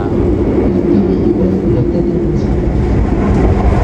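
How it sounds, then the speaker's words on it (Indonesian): The Kertanegara train rumbles past close by, a continuous loud roar with rattling, heard from inside a moving carriage of the Taksaka train. "Kereta api Kertanegara dari Purwokerto tujuan Malang barusan berpapasan dengan kereta kita."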